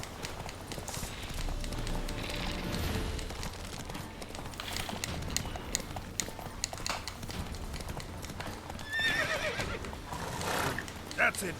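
Roach, a horse in The Witcher 3, neighs and whinnies amid clip-clopping hooves and game ambience, with a sharp whinny near the end; someone talks over it at times.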